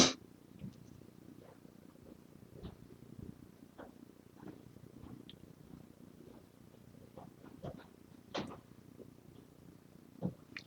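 A house cat purring close to the microphone, a soft continuous rumbling drone with faint irregular clicks and small bumps over it, no voices.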